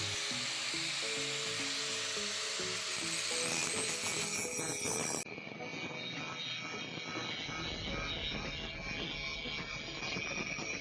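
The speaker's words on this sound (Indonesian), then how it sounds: "saya menggunakan batu poles ya untuk memoles karat yang ada pada besi ini" A Doliz BA730 angle grinder fitted with a polishing stone scours rust from iron, giving a continuous high whine mixed with a rough, hissing grind that shifts tone partway through and stays fairly quiet and steady.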